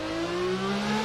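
A V12 race car engine on track holds a steady high-pitched drone with clear harmonic tones, sustained and fairly loud with no talk over it.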